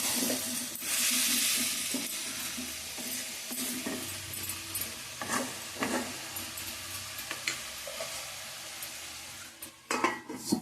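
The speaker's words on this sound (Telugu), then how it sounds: "ఇవి కూడా ములక్కాయ ముక్కలు కూడా మగ్గుతాయి అన్నమాట" Drumstick pieces sizzle gently in oil in a pan for a raw cashew and drumstick curry, a steady close frying hiss with occasional clinks and stirring scrapes.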